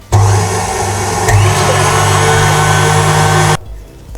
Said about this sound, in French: on va monter les blancs en neige bien ferme avec mon robot